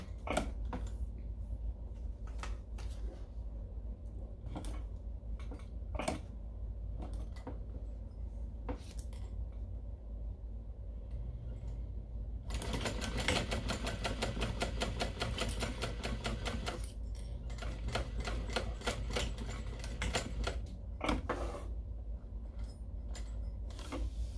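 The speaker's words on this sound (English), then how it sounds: "you got to make sure that you sew as close to the zipper teeth as you can" A sewing machine stitches a fabric ID lanyard right along a zipper's teeth, its rapid mechanical chatter starting partway through and running steadily for about ten seconds after scattered handling clicks and taps.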